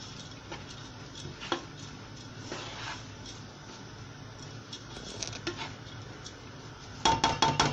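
Koshari ingredients stirred in a metal pot, with soft scraping and intermittent clinks of the spoon against the pot, ending in a brief burst of louder clatter.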